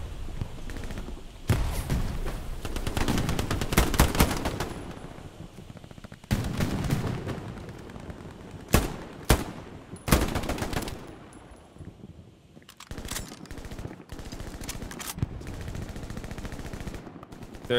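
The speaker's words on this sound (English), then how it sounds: "I hit him a few times with a shotgun" Rapid gunfire rattles through an online shooter match, with long sustained bursts broken by brief pauses and a few sharp single blasts, loud and close throughout.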